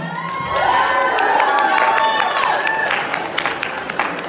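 A crowd at a New Year's event cheers and shouts for Emma, with excited children's voices and whoops over scattered clapping, loud and sustained throughout.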